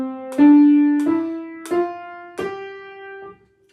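A piano plays a simple beginner phrase of evenly spaced quarter notes, four or five clear struck tones stepping along at a steady beat, each ringing into the next, solo and close.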